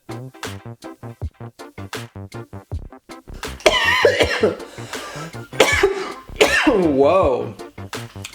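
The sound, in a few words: coughing from chili fumes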